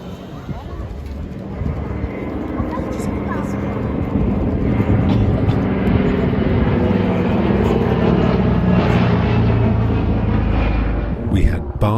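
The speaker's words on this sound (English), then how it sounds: "Just listen to those engines." At an air show, vintage propeller aircraft such as a DC-3 Dakota drone past, their piston engines rising into a loud, sustained rumbling roar that fades near the end, with a voice speaking over it.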